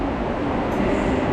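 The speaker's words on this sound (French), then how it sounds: "Aujourd'hui, on est au métro" A metro train rumbles through McGill station in Montreal, giving a loud, steady underground roar with no voices over it.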